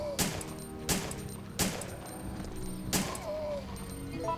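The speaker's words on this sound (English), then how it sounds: "we're just going to take these zombies out one by one, even though it wastes a lot of ammo" Four loud gunshots fired one at a time at zombies in Resident Evil 3: Nemesis, spaced roughly a second apart over a steady low game background, with a faint rising tone after the last shot.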